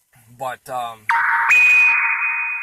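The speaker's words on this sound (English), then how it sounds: "sorry about my phone going off." A phone notification goes off right after a short spoken word, a loud steady electronic tone that steps up in pitch partway through and holds for over a second.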